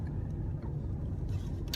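A car drives along the road, its low steady engine and tire rumble filling the cabin with a constant muffled drone and faint small rattles.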